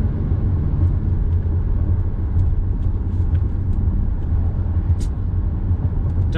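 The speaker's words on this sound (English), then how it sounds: "it did jump to second gear. I'm gonna downshift it." A car with paddle shifters runs in a low gear after a downshift, a steady loud low rumble of engine and road noise continuing without a break from inside the cabin.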